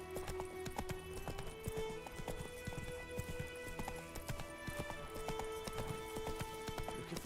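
Roach, the horse in The Witcher 3, gallops with rapid, even clip-clop hoofbeats close by for several seconds over a low musical hum, with a faint neigh.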